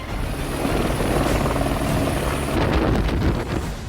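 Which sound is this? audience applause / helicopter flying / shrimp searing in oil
helicopter flying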